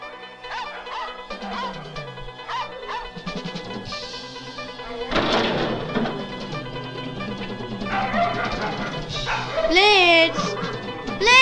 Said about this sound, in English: make him stop barking